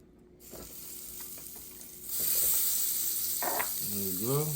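Butter sizzles in a hot frying pan with a steady close hiss that grows louder midway, as a voice briefly speaks over the crackle near the end.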